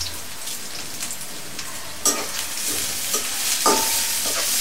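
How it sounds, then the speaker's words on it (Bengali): Dry red chillies fry with onions in a hot pan for potato dal, a steady moderate sizzle broken by a few sharper stirring scrapes and crackles, with no voices. "এই অবস্থায় এর মধ্যে কটা শুকনো মরিচ দিয়ে দিব।"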